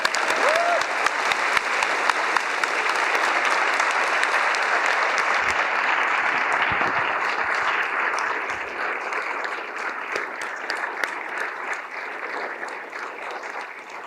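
Sustained applause from a large audience at an academic year opening ceremony at a university of technology, dense and loud throughout, gradually easing toward the end.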